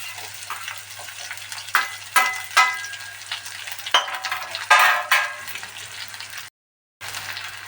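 Green chillies fry in a pan for a potato palya: a close, steady sizzle with scattered clinks and scrapes of a stirring spoon, cutting out briefly near the end before resuming.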